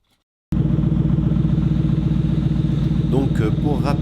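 Engine of a 2006 Ford Mustang with original camshafts bursts into a loud, steady, throbbing idle after a moment of silence, close by, with a voice speaking over it near the end.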